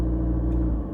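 Inside an Isuzu MU-X with a 3-liter four-cylinder turbo diesel while driving: a steady, close, low engine drone and road rumble, with no talk.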